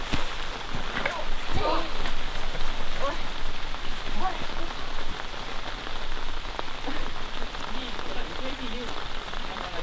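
Steady rain pattering on surfaces outdoors on a rainy Estonian midsummer eve, a dense, even hiss of drops with a few louder nearby splashes, while people talk now and then underneath.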